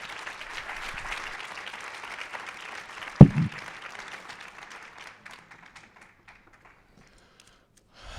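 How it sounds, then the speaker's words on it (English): Applause from a summit audience after a performance fades out gradually, with a sharp tap or knock partway through, then near silence before a brief sound at the end. "Thank you for a great round of applause for Brian Casey, Professor, and Tia Trent."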